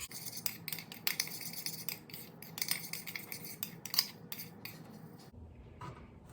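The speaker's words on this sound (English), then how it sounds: "Take our spoon, give that a good mix" A spoon stirs fiery honey mustard seasoning in a dish, scraping and clinking against the sides in quick irregular strokes, close up and moderately quiet, stopping near the end.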